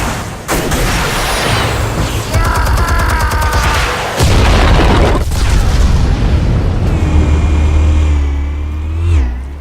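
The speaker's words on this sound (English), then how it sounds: "Explosives armed. Fire when ready." Explosives detonate in Batman: The Telltale Series with loud booming blasts and gunfire-like bursts, rumbling low and continuous, with a revving roar building near the end.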